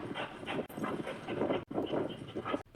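Dogs whimper and scuffle while playing after a fight, with yelps, panting and thumping paws close to the camera in a busy, continuous burst.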